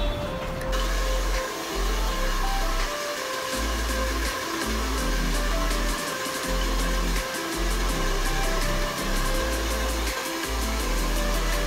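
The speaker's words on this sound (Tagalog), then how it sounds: "Bali, hindi kakayanin ng blower." An electric hair dryer blows steadily on hair just rinsed after a hot oil treatment, a constant whirring hum with periodic dips and surges as it is moved about, near and loud.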